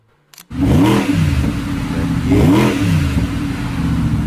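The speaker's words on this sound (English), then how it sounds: "just so you can hear that engine roar some more" Audi R8 engine, a rear-wheel-drive car, roars loudly and close after a short quiet start, revving up twice with rising and falling engine pitch before settling into a steady, strong drone.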